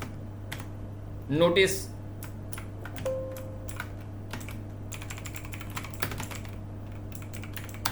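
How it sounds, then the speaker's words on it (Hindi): Keys clack on a computer keyboard while working in MS Excel, scattered soft taps and short bursts, close and quiet, with someone speaking briefly. "लिखता हूं और कंट्रोल 2 दबा देता हूं।"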